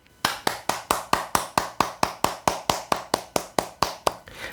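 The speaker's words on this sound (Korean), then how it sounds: "우리 하나님께 영광과 감사의 박수를 올려드리겠습니다." A church congregation at a Sunday worship service claps in unison, a steady rhythmic beat of sharp, even claps at about four per second, loud and sustained with no talking.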